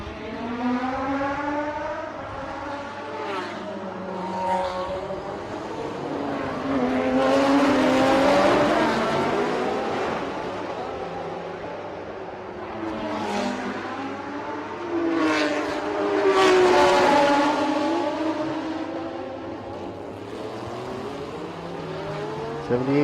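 Race cars, including Lamborghinis, roar past at the Bangsaen Grand Prix street circuit, engine notes rising and falling in pitch as the cars sweep by in two loud, close passes.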